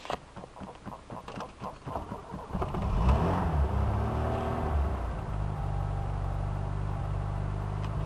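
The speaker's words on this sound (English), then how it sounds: "So ready to fire up the car, get them warmed up." A car engine cranks with a few rapid clicks, catches, and settles into a steady low idle rumble, close and continuous, warming up on a rainy day in Lviv, Ukraine.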